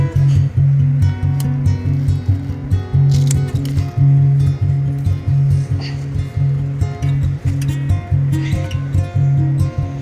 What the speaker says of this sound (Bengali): আর এখন আমি পাতা কেটে নিচ্ছি।